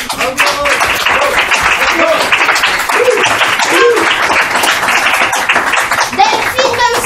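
Audience applause at a French storytelling evening, steady clapping sustained for about seven seconds, with voices and brief vocal sounds mixed in.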